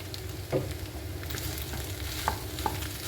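Curry leaves hitting hot oil while a spicy chicken dish is made: a close, steady crackling sizzle with a few sharper pops and the light scrape of stirring, no voices.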